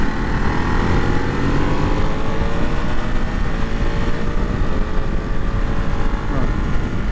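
Ridden close and loud, a 2023 Ducati Monster SP cruises in fourth gear on the street, its engine a continuous even roar mixed with wind rush, no pauses or shifts.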